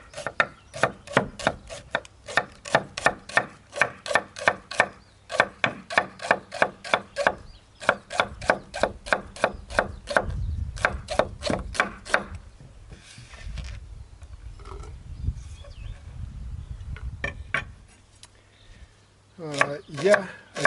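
Sweet flag root being cut and ground into fine powder: fast bursts of sharp chopping strokes in rapid rhythmic runs, then a stretch of softer rubbing and grinding before a few more chops, close and clear with no talk.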